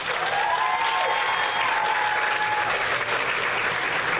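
Dense, sustained applause from a school audience honoring seniors, an even roar of many hands clapping with a faint tone or whistle running through it.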